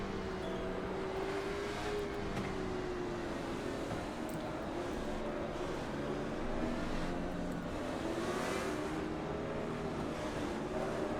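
Late model stock cars in iRacing hold a steady engine drone as the race starts, the pitch rising and falling gently across the clip at a moderate, even level.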